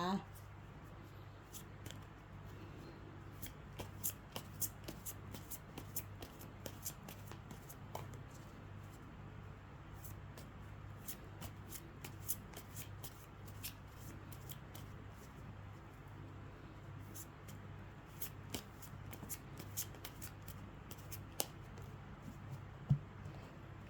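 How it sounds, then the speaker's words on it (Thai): Tarot cards are shuffled and cut in a faint, continuous patter of soft papery clicks and ticks, close but quiet over a low steady hum, with no talking. "ขอเป็นตัวแทนสับไพ่ตัดไพ่ให้คนเกิดวันอาทิตย์นะคะ"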